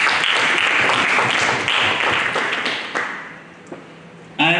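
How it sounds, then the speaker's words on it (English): Conference audience applauding in a hall, a dense burst of clapping that gradually thins and fades, followed by a brief sound at the end. "I think that deserves a round of applause."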